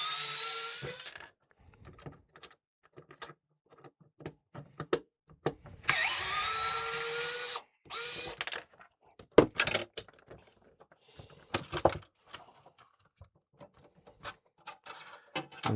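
Small metallic clicks and short scraping bursts, scattered and uneven, as screws are worked out of the front panel of a Kenwood KA-5090R amplifier on a repair bench, close by and fairly quiet.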